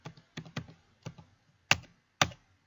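Soft keystrokes on a computer keyboard as text is typed into a document, coming in short irregular bursts of quick taps with brief pauses between them, close and fairly quiet.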